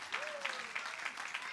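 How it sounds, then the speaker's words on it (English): Audience applause for performers at a live comedy or stage show, a brief burst of clapping with a voice talking over it. "Give them a round of applause"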